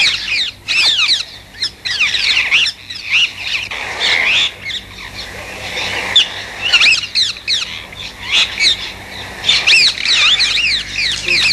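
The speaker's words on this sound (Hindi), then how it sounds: "इस पेड़ पे जो चिड़िया लगातार चै चै कर रही है" A bird in a tree squawks and chirps almost without pause, loud and close, in rapid harsh repeated calls with brief gaps.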